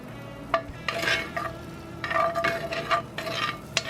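Butter sizzles in a hot pan alongside a ribeye steak with diced shallot, a steady close crackle broken by a few sharp scrapes and clinks of utensils, with no talking.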